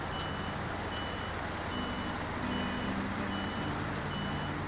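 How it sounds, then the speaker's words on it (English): Zikz 605R heavy truck in the SnowRunner game, an off-road snow setting, gives a steady low engine drone with repeated reversing beeps running over it throughout, fairly faint and continuous with no talk. "What an absolute beast of a truck."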